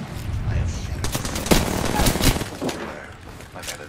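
Rapid automatic gunfire rattles in the Apex Legends video game, dense bursts and sharp individual shots layered over game noise, loud and close, with a player talking over it.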